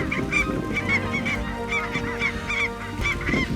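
Snow geese and Canada geese honk steadily in the distance, many overlapping calls forming a continuous chorus from a flock, with no talk.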